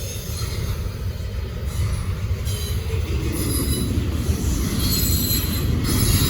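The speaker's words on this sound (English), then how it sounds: "Shorter train today." A short Norfolk Southern freight train rolls past loudly and close by, with a steady rumble of railcars and wheels squealing against the rails throughout.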